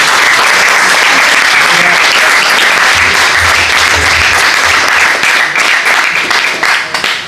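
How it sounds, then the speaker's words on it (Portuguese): Sustained, dense applause from a large audience at a conference on loricariid catfish, loud and steady throughout with a faint low murmur beneath. "quero uma salva de palmas para ele também"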